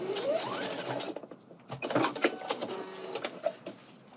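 A sewing machine bastes pleats in place across the top of a garment, stitching close by in a fast stuttering run that stops and starts, with no talking.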